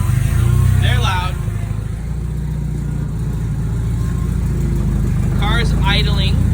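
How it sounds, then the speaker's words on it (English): A 700hp drift car that sat unused for three years idles with a loud, close, steady low rumble and rhythmic pulsing, while someone talks briefly over it. "Car's idling."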